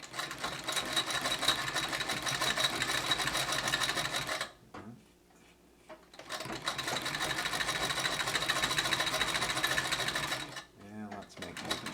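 An 1887 Singer sewing machine stitches with a steady, clunky mechanical whir that runs loud and continuous, pauses briefly twice, then starts again.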